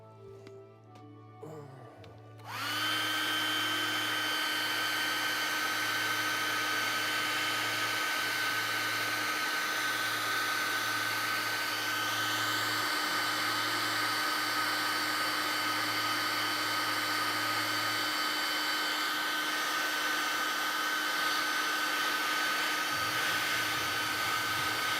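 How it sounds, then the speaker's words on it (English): A hair dryer switches on after a brief quiet start and blows continuously to dry paint, a steady loud whirring hum with a constant whine that persists to the end. "we'll blow dry this for a bit"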